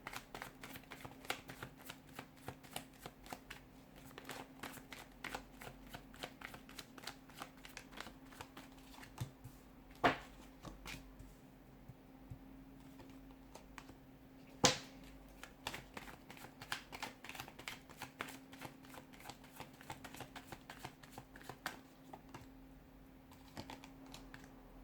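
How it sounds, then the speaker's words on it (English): Tarot cards shuffled by hand in a steady run of soft riffling and clicking, with a few sharper slaps standing out, close and quiet with no voices. "we'll give the cards a shuffle"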